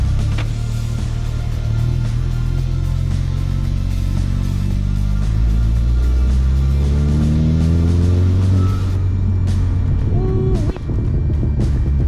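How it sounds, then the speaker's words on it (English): A Chevrolet HHR SS four-cylinder engine revs hard on a dyno, a loud, deep roar climbing steadily in pitch before abruptly cutting off near the end. "Sounds mean for a four-cylinder."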